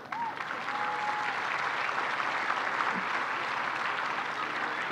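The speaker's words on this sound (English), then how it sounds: "Give him a round of applause." A high school graduation crowd gives a sustained round of applause, a broad, even roar of many hands clapping that carries on for several seconds without speech.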